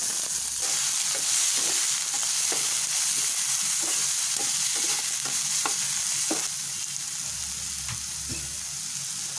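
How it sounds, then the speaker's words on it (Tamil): Curry leaves and onions frying in hot oil, a steady loud sizzle with repeated sharp stirring scrapes at an uneven rhythm, close up and without talk. "கருவேப்பிலை வெங்காயம் சேர்த்து கொதிக்கலாம்"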